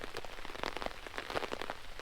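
Steady rain patters on a campsite during a rainy camping trip, a dense close hiss of drops striking surfaces with scattered louder individual taps throughout, no voices.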